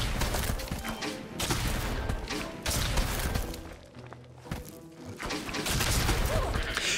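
An upgraded rocket launcher fires in Plants vs Zombies 3, loud crashing volleys and thuds that come in waves with a short lull around the four-second mark, then build again.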